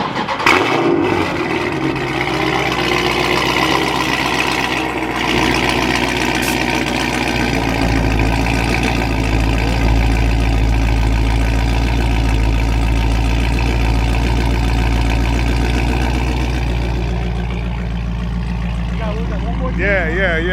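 A Dodge Charger with gutted cats and a mid muffler delete cranks and fires, then settles into a loud, deep rumbling idle that holds steady, with people talking over it.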